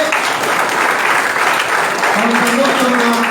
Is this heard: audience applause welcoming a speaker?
yes